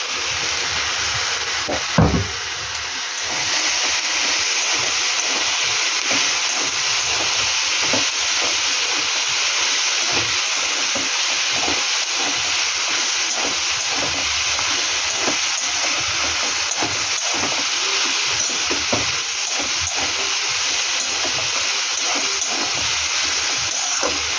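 Prawns cook in a pan with a steady, even hiss and sizzle that continues throughout, close and fairly loud, with a few soft knocks early on and no voices.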